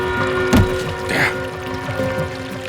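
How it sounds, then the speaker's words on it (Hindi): Water runs or pours in a hotel room, a steady wash with a brief louder splash, heard close and alone. "पानी की आवाज।"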